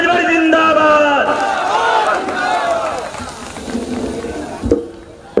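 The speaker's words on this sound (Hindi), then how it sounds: "आपका जोरदार तालियों से स्वागत हो माननीय अरविंद राजभर जी का" Crowd at a SBSP political rally cheering and clapping to welcome Arvind Rajbhar, with loud chanting voices and shouts layered over applause that gradually thins out, ending in a sharp burst.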